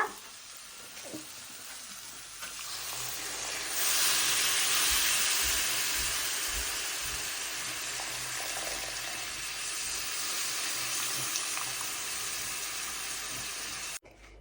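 Coconut milk poured into a tomato fish fry sizzling in a pan, a quiet, continuous frying hiss that swells as the liquid goes in, then settles into a steady bubbling sizzle.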